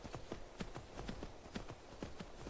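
Horse hooves clip-clopping up a slope in the video game Skyrim, a steady run of about a dozen close, even hoof strikes with no talk.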